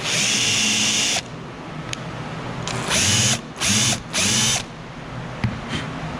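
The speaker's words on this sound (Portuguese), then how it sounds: "E aí eu vou vir aqui no furo, ó, e vou escariar ele" A cordless drill countersinking a screw hole whines in a long opening burst, then in several short pulses with brief pauses between them, loud and close, with small clicks in the quieter gaps.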